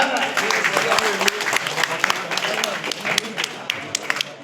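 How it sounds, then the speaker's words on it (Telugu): A crowd at a public felicitation gathering claps steadily, dense broadband applause filling the scene from start to finish at moderate loudness, with scattered sharper individual claps standing out. "అబ్బాయి అందరూ క్లాప్స్ కొట్టండి."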